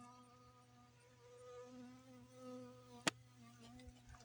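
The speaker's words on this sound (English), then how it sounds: "Oh, can you hear that? Honeybee buzzing around?" A honeybee buzzes faintly near a backyard garden close to neighbouring hives, a thin wavering drone that rises and falls in pitch, interrupted by one sharp click.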